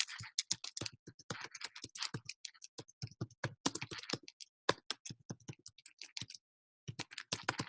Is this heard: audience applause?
no